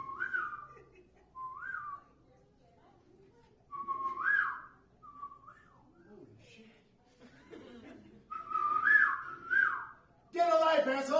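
A person whistling short rising-and-falling chirpy phrases imitating a bird at a live comedy club, several separate whistled bursts with pauses, followed by a burst of audience laughter at the end.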